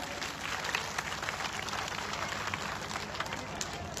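Clapping from a crowd at an outdoor political rally in Jalna, a steady broadband patter running the full length with scattered sharper claps, fairly loud and continuous.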